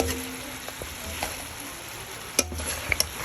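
Pork bones adobo sizzles and simmers steadily in a pan, with a few sharp clinks of a utensil against the pan near the end.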